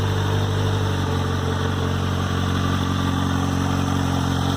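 A 2018 Kawasaki Z900 motorcycle idling steadily with its stock exhaust and catalytic converter still fitted, a close, loud, even engine drone with a smooth low rumble and no voices.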